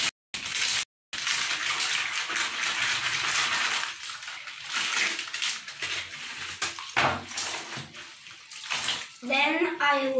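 Clothes are hand washed with soap in a tub of water, with splashing, sloshing and wet rubbing in uneven bursts, and a short high voice near the end.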